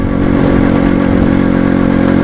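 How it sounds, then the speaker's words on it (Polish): A motorcycle with its exhaust baffle fully removed runs close by, giving a loud, steady, raw engine drone with a rapid pulsing beat throughout. "Mam nadzieję, że mojego wydechu za bardzo nie słychać. W tej chwili jest wyciągnięta wytłumienie całkowicie"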